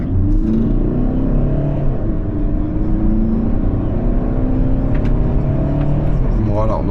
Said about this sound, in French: on sent la boîte DSG7 qui est plutôt réactive, le moteur qui est très coupleux